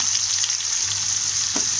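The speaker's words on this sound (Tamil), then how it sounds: "வெங்காயம் நல்லா வதங்கணும்" Chopped onions fry in hot oil for a stingray fish curry, giving a steady, close, even sizzle that holds without a break and with no one talking.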